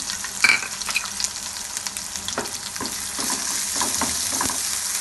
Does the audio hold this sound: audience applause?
no